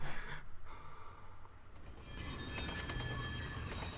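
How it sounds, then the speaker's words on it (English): A train rumbles and roars past in the fighting game Injustice: Gods Among Us, loud at first, then a steady rattling rush with wheel screech near the end, no voices. "Damn you, train!"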